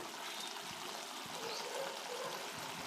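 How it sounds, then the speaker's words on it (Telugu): Curry with boondi and drumsticks simmers in a pot, a faint, steady bubbling hiss that goes on without pause and without speech. "అదిగోనండి అలా ఉడుకుతుంది"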